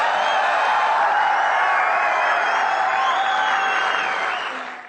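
Loud, dense applause from a large audience at a seminar, sustained and even throughout, with a few cheers mixed in, then tapering slightly at the end.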